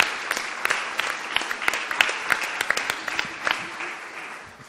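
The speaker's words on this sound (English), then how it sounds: "Let's have a huge round of applause" A room full of people applauding steadily, dense clapping with a few sharper claps standing out, gradually tapering off.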